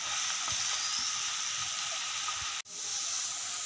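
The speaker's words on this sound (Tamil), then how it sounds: "நான் எல்லா காயும் சேர்த்துட்டு நல்லா இந்த ஆயிலே கொஞ்சம் நேரம் சிம் ஃப்ளேமில் வச்சு நம்ம நல்லா வதக்கணும்" Chopped vegetables, added to softened onion and tomato, sauté in oil over a low flame with a constant close hiss and sizzle, broken once by a brief dropout near the end.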